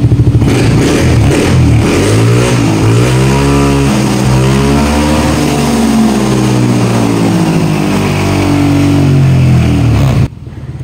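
A Yamaha NMAX V1 scooter engine with an error 84 fault runs loudly up close, droning with pitch that sweeps and wavers as it is revved, then cuts off abruptly at the end.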